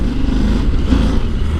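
A Yamaha Super Ténéré motorcycle in sport mode accelerates hard on a test track. Its engine note is close and loud, a dense, steady roar with no pause across the short stretch.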